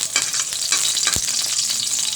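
Garlic sautés in a pan for a dish of bottle gourd with sardines, with a loud continuous sizzle close by and quick spatula scrapes and one sharp knock, and no speech.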